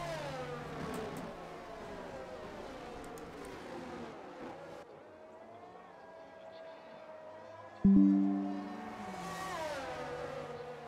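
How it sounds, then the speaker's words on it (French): A safety car circles a racing circuit during a sprint weekend in Canada, its engine whining through rising and falling harmonic tones at moderate distance. A short, sharp electronic tone cuts in near the end. "safety car en piste"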